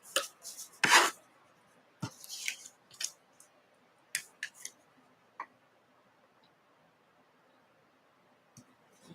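Scissors trimming paper pieces for a quilt block make a few sharp, close snips and crisp paper rustles at irregular intervals, with long quiet gaps between them.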